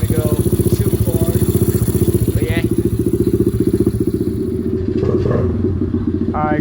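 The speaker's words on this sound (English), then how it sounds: "got the pit bike all running" A Chinese pit bike engine, fitted with a new wiring harness and carburetor, idles loud and close with a steady, fast-pulsing putter throughout, plus a few faint clunks in the background.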